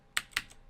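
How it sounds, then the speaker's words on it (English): Two quick, crisp keystrokes on a computer keyboard while entering code, close and fairly quiet, with a faint third tap after them. "we're just going to type in a simple line to write some text to a debug log"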